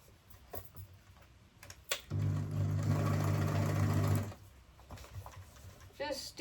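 A sewing machine stitches fabric for a handmade gift bag in a steady, humming run of about two seconds, near and loud, with brief clicks and handling noises before and after.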